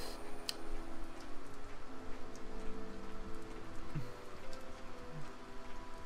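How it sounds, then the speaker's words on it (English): Steady rainfall in the video game Tales of Berseria, a constant dense patter of drops with faint ticking, even and unbroken throughout. "You know, I'm really sick of this rain."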